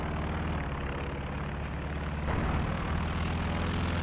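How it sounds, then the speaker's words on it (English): Continuous low propeller drone of a recon plane flying over a video game battlefield, a loud, even engine hum with a slight swell partway through and faint clicks above, no voices. "The recon plane does have eyes on that"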